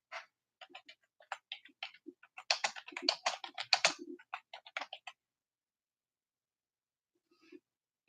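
A Google search being typed on a computer keyboard, with quick, close, irregular clicks of keys in a dense flurry for about five seconds, then silence and a couple of final taps.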